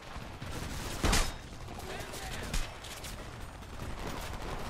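Gunfire in the video game Homefront: two sharp shots stand out near one and two and a half seconds over a steady rumbling battle backdrop, with scattered quieter bursts between.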